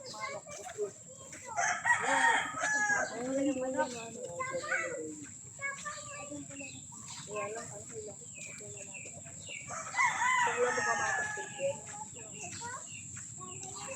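A rooster crows a couple of times nearby, with hens clucking and people talking over the calls.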